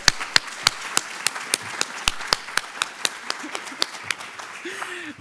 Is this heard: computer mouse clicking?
no